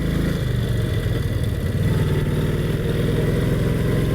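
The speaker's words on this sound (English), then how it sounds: "Great acceleration for a bike that's well over 80 years old." A Brough Superior SS80 vintage motorcycle, over 80 years old, accelerates with a loud, close, throbbing engine note. The exhaust pulses are steady and continuous throughout.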